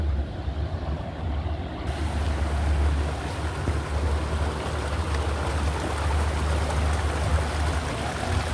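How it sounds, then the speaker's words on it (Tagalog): River water rushes steadily near hidden waterfalls in Hong Kong, a constant close hiss of flowing water over a low rumbling undertone that never pauses. "Ilog."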